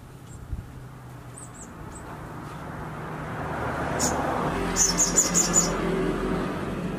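A caged sooty-headed bulbul (sogon) gives short, high chirps and a quick run of whistled notes over faint road traffic rumble.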